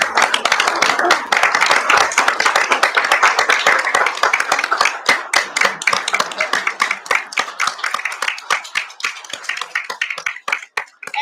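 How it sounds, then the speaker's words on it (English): Audience at a township board of supervisors meeting claps for several seconds, dense and loud at first, then thinning into scattered individual claps that fade toward the end. "let's give everybody a round of applause."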